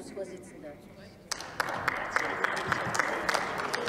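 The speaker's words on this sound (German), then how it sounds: "worauf bezog sich jetzt das Klatschen" Applause in the German Bundestag: a burst of clapping breaks out partway through and continues as a steady crowd patter, with voices faintly underneath.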